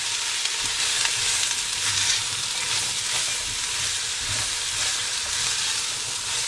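Vegetables hit hot oil and sizzle loudly and continuously, a dense close frying hiss with faint stirring underneath and no speech.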